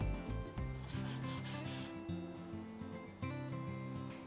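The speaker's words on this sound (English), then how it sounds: "Then we're gonna go ahead and cut the beef into thin slices." A knife saws through beef on a wooden cutting board in repeated rasping, rubbing strokes, close and fairly loud, with a few short pauses between cuts and no voices.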